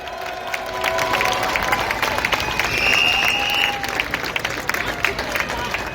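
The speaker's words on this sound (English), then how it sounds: "Give them a big round of applause" Crowd applause and cheering at an outdoor cost of living protest, a steady wash of clapping with scattered shouts and a brief whistle, moderately loud and continuous.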